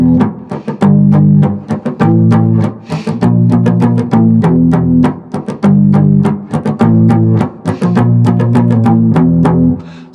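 A cigar box guitar in open E tuning chugs a steady rock groove of repeated low chords with sharp percussive strikes, loud and close, played alone without voices.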